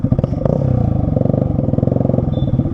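A modified Yamaha R15 V3 fitted with a BRS Shoaib exhaust revs loudly and close by, its rapid crackling pulses pounding out in a fast, even rhythm for a few seconds.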